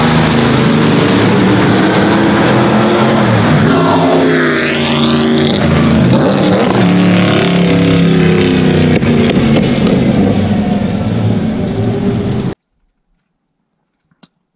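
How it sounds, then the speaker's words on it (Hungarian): Loud, continuous car engine roar from a car in a major racing win, rising and falling in pitch with a sweeping pass partway through, running steadily for about twelve seconds before cutting off abruptly into silence. "Berakok majd ide, hogy milyen hangja volt ennek a kocsinak."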